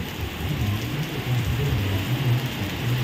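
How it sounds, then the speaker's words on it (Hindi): Heavy rain pours outdoors, recorded on a GoPro Hero 9 held out in the downpour, a dense constant roar of drops with a low rumbling undertone, loud and steady and with no voices. "बहुत तेज़ बरसात है देख सकते हैं आप लोग।"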